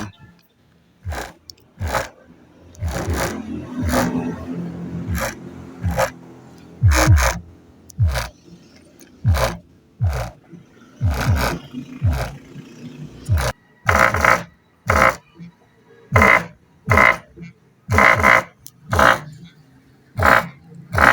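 A Zulex car subwoofer amplifier, not yet screwed down, rattles its loose metal and aluminum parts, giving loud, sharp thumping rattles in a steady repeating beat that continues throughout.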